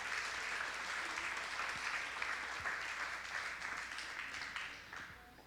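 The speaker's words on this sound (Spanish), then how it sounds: "Dale un aplauso al Señor por la palabra" A church congregation gives a sustained round of applause at a Sunday service, a broad, even wash of many hands clapping at a distance that slowly tapers toward the end.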